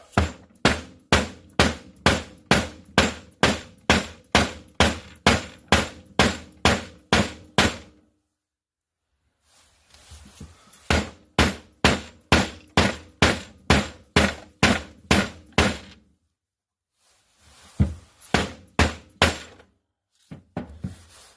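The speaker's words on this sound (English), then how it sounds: "We're going to see how all that hammering sounds on it" Steady rhythmic metal hammering on a copper coin in a collar, sharp ringing blows in quick succession, pausing twice between bursts, loud and close with no talking.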